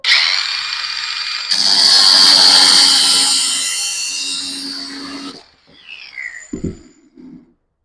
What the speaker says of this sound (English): All right, so simple cutoff wheel, grinder.